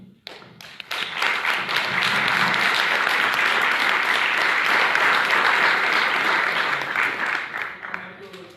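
Audience at a school board meeting breaks into sustained applause, a dense wash of clapping that builds quickly, holds steady at full volume, then tapers near the end.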